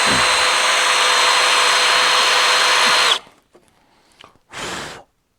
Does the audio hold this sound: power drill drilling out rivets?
yes